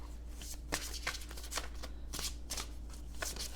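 Tarot cards being shuffled in quick riffling bursts, a close, crisp flutter repeating several times in steady rhythm.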